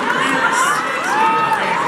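A large convention crowd at a Brooklyn Nine-Nine panel at Comic-Con cheers and shouts in a dense, steady roar, with high whoops and shrieks rising over it and no clear speech.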